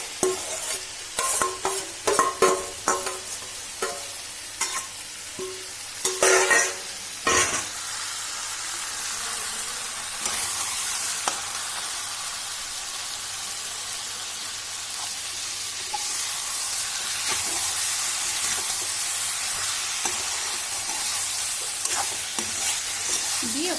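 Pigeon meat and potatoes sizzle and hiss steadily in an oiled wok, with sharp scraping stirs in the first seconds before the frying settles into a continuous close sizzle.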